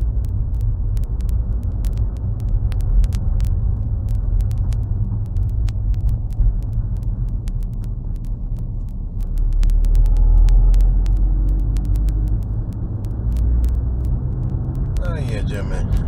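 A car rolls through the streets of Siewierz in Poland, giving a steady low road rumble from inside the cabin that swells briefly midway, while someone talks continuously over it.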